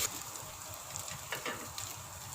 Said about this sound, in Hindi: अदरक पेस्ट डालकर इसको 1 मिनट के लिए भूनते हैं